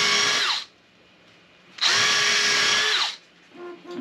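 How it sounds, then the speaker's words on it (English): Power drill running in two short bursts of whirring at steady speed, close and loud, with a brief pause between them and a faint trailing spin at the end. "Need to do some more drilling."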